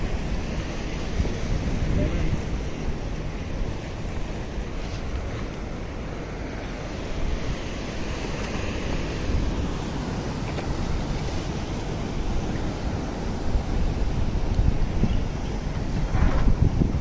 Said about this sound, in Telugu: మన దగ్గర కూడా ఇంత పెద్ద అలలు వస్తాయని